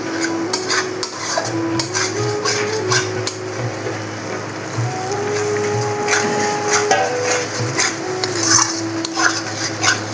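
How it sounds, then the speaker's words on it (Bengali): Chicken tikka malai curry masala being stir-fried in a pan with a little water: close, steady scraping and clinking of a utensil against the pan, with occasional sharper metallic knocks and no talking. "চিকেন টিক্কা মালাইকারি মশলাটা আমি মশলা ধোয়া জল দিয়ে অল্প অল্প করে আমি কষাবো ভালো করে।"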